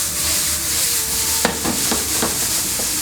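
Fried rice with sesame oil and Japanese soy sauce sizzling steadily in a hot pan as it is tossed, with a series of sharp scraping clinks from the utensil over the constant frying hiss.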